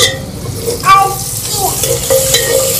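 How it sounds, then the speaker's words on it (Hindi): Red chili going into a sizzling frying pan while potato and cauliflower are being cooked: a loud, close frying crackle with stirring scrapes and short clinks of utensil on pan, and no talking. "अभी हम ये लाल मिर्ची डाल रहे हैं।"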